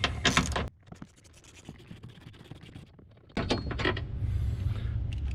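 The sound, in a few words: removing a 13mm bolt from an engine brace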